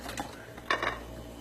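Cooked ugali is cut into pieces in a pot, giving a few soft scraping and clinking knife-on-metal sounds over a low background hum.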